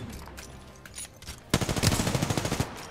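Rapid automatic gunfire from a weapon in the battle royale video game Apex Legends, a loud, fast burst of evenly spaced shots following quieter, scattered game sounds.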